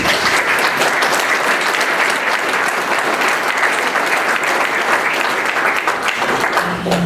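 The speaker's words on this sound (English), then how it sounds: "So join me in applauding the Lacombe Fire Department." Loud, steady applause from a large crowd at a mayor's State of the City address, continuous clapping throughout with no pauses.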